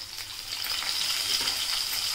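Finely chopped green chillies and garlic fry in oil for Maharashtrian curd kadhi, giving a steady, close sizzling hiss that holds evenly throughout, with no talking.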